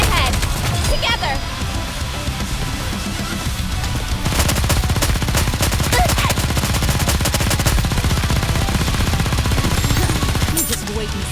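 Sustained automatic gunfire in the mobile shooter game NIKKE: Goddess of Victory, dense rapid bursts running nearly the whole time, loud and close, with a brief lull early on and a voice speaking over part of it.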